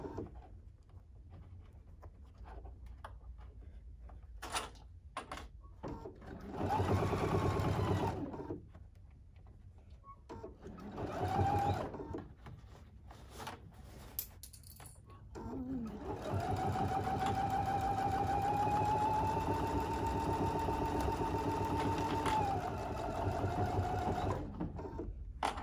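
Sewing machine stitching thick fabric layers of a wine bag with an even feed foot, short bursts of motor hum, then a longer steady run, with quiet handling sounds in between.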